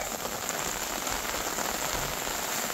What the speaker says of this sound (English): It's been raining like this for damn near 20 hours now.